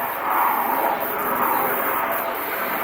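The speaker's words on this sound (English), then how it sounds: "Oh, there's a helicopter." A distant helicopter drones overhead as a steady, low whooshing hum, fairly faint and unbroken for a few seconds.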